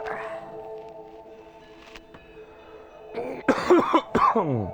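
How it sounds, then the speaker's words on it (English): A person coughs near the microphone in a quick cluster of harsh bursts after a stretch of low background hum. "Sorry for coughing in your ear."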